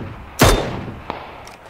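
A single loud, close Mini 14 rifle shot in PUBG cracks out, followed by a fainter distant report about half a second later and a couple of faint far-off shots near the end.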